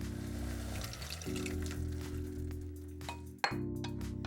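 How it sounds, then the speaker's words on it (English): Anchovy sea kelp broth poured from a container into a pot, a liquid gurgle with glassy clinks, ending in a sharp clink near the close. "So we'll add some anchovy sea kelp broth that I've prepared here."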